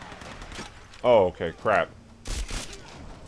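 A couple of quick gunshots crack out in the Tomb Raider video game, close together and short, right after a man's surprised speech.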